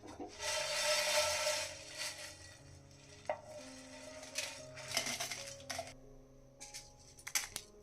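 Roasted whole spices are scraped and tipped from a kadai into a mixer jar, giving a loud rushing rattle at first and then scattered clinks, scrapes and taps of a spoon on metal, with no talking.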